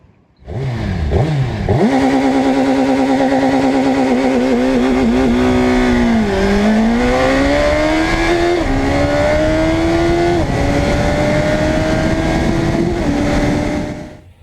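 A brand-new 2021 Suzuki Hayabusa with a 1299cc engine starts up close by and then idles and revs loudly and steadily, its pitch rising and falling in smooth sweeps.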